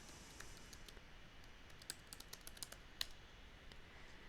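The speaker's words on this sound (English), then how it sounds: "typing in the name of the pattern" Soft clicking keystrokes as a pattern name is typed on a computer keyboard, a quick irregular run of light taps, faint and close, with no talking.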